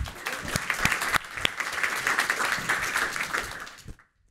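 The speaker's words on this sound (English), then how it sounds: "Feel free to keep the applause going." An audience at a tech talk on an AI assistant's personality applauds steadily for about four seconds before the clapping cuts off abruptly, with a few louder claps standing out.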